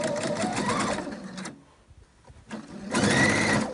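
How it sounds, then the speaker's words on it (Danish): Sewing machine stitching a plain straight stitch on a child's dress seam, in two rapid buzzing runs separated by a short quiet pause, close and fairly soft. "Syr med helt almindelig ligeudsting."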